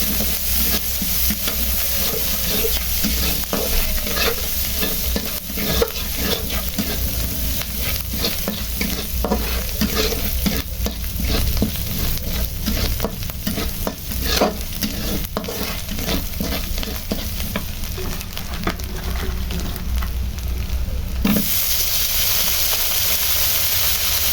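Bananas stirring and frying in a pan, a steady sizzle over 24 seconds with frequent scraping utensil strokes throughout and a brief clatter near the end, close and fairly loud, no talking.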